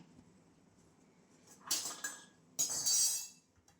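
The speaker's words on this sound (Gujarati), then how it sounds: "એક કડાઈ મૂકી દઈએ." A metal kadai pan is set down on a gas stove, giving two bright clattering clinks about a second apart that ring briefly against a quiet kitchen background.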